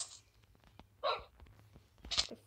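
A couple of short, bright dog barks from a Minecraft-style video game sound out, spaced apart, with a slightly synthetic, game-like quality over a low background hum.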